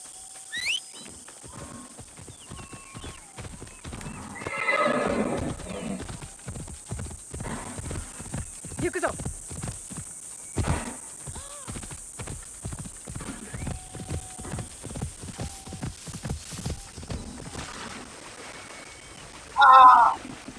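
Horse hooves clip-clop in a steady trotting rhythm in Assassin's Creed Shadows, with a short neigh near the start and a loud whinny near the end over a thin game ambience.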